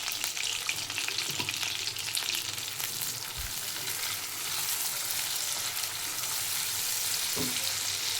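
Tomatoes with a little salt fry and are stirred in a pan, giving a steady close sizzle with a couple of brief spoon scrapes against the metal, and no one talks.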